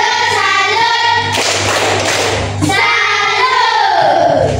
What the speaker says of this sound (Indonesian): Tepuk salut untuk Tania.